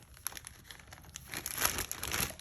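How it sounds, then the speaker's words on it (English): Refrigerated biscuit dough pieces being dropped into a plastic bag, crinkling and rustling in quick irregular bursts that grow busier and louder toward the end, close by with no talk. "So we're gonna put them in this plastic bag."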